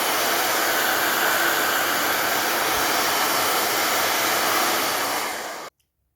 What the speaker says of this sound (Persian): قبل ریختن پارافین باید قالب رو با سشوار گرم کنیم